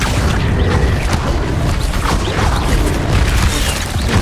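Confringo spell explosions in Hogwarts Legacy: loud, dense booming blasts and crashing debris roll continuously, layered with mechanical rumbles and pops in a busy combat mix.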